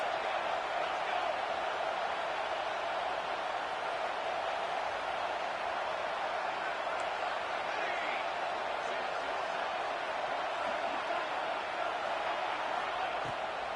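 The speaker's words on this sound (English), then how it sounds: "This crowd trying to make life miserable for this offense." Steady roar of a stadium crowd at an NCAA college football game, a dense, constant wash of distant voices and cheering with no clear breaks, held at an even level throughout.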